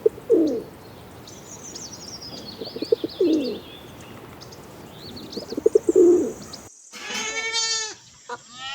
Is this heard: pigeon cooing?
yes